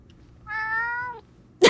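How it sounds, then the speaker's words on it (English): A cat meows once in the video game Stanley Parable Ultra Deluxe: a clear, drawn-out tonal mew, followed by a short sharp burst of noise right at the end. "Other cat. Meow."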